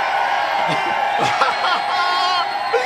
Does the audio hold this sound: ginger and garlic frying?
no